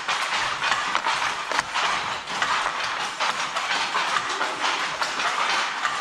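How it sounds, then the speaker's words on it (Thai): A Thai fly-shuttle handloom weaving cloth in a village weaving group at Ban San Luang Tai, Mae Chan, Chiang Rai makes a dense, continuous wooden clatter of rapid, rhythmic knocks and shuttle clacks, loud and close with no talking. "เข้ามาข้างในนะฮะเสียงกี่กระตุก"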